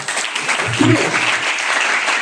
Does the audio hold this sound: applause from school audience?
yes